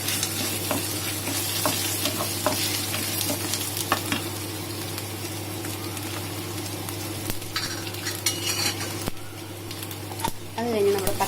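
Dried red chillies and ginger sizzle in hot oil in a pan for vermicelli upma, with a steady frying hiss and repeated scrape-and-clink of stirring close by, while a voice talks over it.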